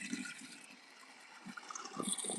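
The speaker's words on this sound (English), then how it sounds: "Fill up water." Water pours softly into a container for chickens, a faint, low gurgling fill that runs for a couple of seconds with no talking.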